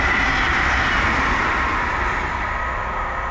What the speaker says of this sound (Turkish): Hızlı tren.